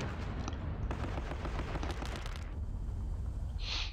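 Rapid bursts of gunfire aimed at tanks in the Panzer Battles wargame, with dense crackling volleys through most of the stretch that thin toward the end, loud and continuous with no talk.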